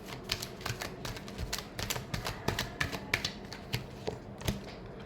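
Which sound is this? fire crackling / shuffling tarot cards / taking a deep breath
shuffling tarot cards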